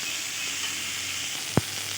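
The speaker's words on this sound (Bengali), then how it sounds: "এবার একটু নেড়ে নেব।" Tomatoes cook in a pan with a faint, steady sizzle and a single soft knock of a spoon against the pan.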